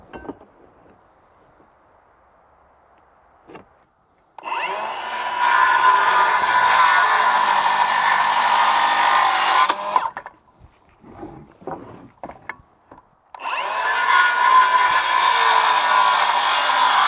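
A saw trimming wooden wall studs down to 90 inches for a micro cabin, two loud sustained cutting bursts with a short spell of knocks and clatter between them.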